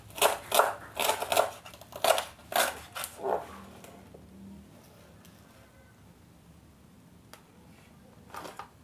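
A knife crunches through crispy deep-fried pork belly (lechon kawali) in a rapid series of loud, crackly cuts, then the chopping stops and only faint clatter and a last crunch follow.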